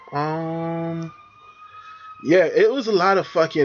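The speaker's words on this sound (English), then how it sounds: "sorry about the sirens." Emergency vehicle siren sounding outside, a steady loud wail for about a second before someone speaks in the foreground.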